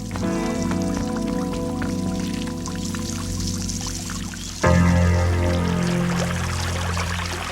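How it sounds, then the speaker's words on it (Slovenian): Water is left running to soak flowers in a cartoon, a steady pouring and splashing stream that grows louder partway through, set against a sustained musical backdrop. "Vodo bomo pustili teči vso noč"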